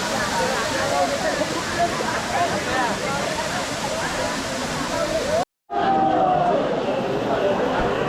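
A waterfall at the Ekvira temple fort near its caves pours as a broad, constant roar, with voices and crowd chatter mixed over it and a brief moment of silence partway through.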